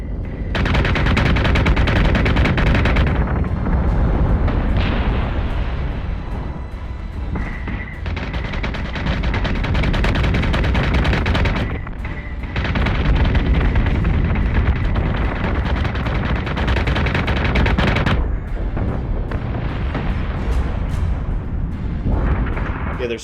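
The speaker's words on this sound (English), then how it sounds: "there's so many Vipers doing strafing runs at different times" Viper fighters make strafing runs in the Battlestar Galactica Deadlock space battle game, a dense, continuous barrage of rapid gunfire and explosions rolling in loud waves for over twenty seconds, broken by a few short drops in intensity.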